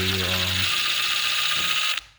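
A cordless drill whirs steadily while backing out the screws of a wall electrical outlet, a loud continuous buzz lasting about two seconds before cutting off abruptly.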